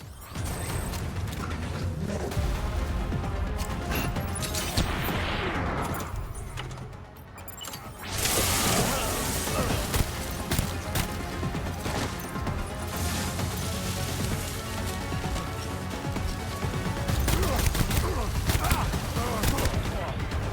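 Rapid machine gun fire rattles through a firefight in the Death Stranding video game, dense bursts running most of the way with a brief lull in the middle, mixed with mechanical clatter and game sounds.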